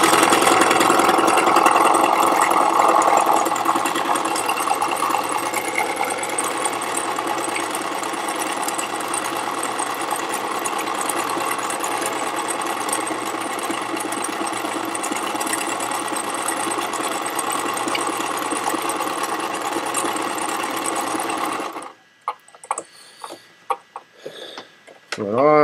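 A sewing machine runs a zigzag stitch back and forth, a steady loud mechanical whir with fast rhythmic clatter for over twenty seconds before stopping abruptly, followed by a few faint handling clicks.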